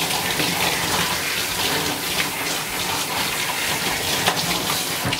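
Running water rinsing a poodle in a bath, a steady broadband splashing gush that continues unbroken and close throughout, with no talking.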